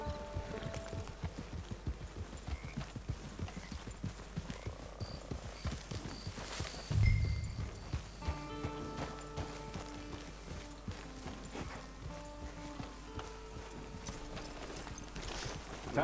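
Horse hooves clip-clop at a steady trot in the Red Dead Online video game, a fast even patter running throughout under faint ambient sound, with a brief louder thump midway.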